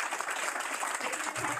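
A crowd applauds steadily at a Pride Month proclamation signing, dense clapping filling the room at a moderate distance without a break.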